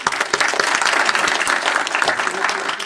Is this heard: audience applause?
yes